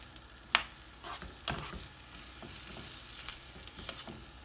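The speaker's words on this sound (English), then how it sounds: "So we're just going to fry the onions until they're soft." Onions frying gently in a pan, a soft, quiet sizzle with a few sharp stirring clicks and scrapes early on, no voices over it.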